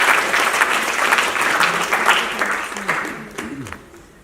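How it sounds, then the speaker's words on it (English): Audience applause at a media and advertising awards ceremony, a loud, dense crowd clapping that fades gradually, with a voice speaking over it toward the end. "It's a big round of applause to UNFPA."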